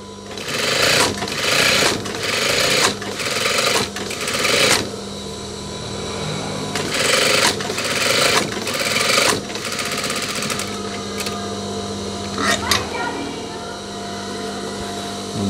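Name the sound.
sewing machine stitching denim jacket cuff and waistband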